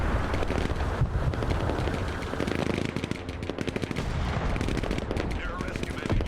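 Sustained automatic gunfire from the Broken Arrow military strategy game, dense rapid bursts layered with heavier blasts and rumble, loud and continuous throughout.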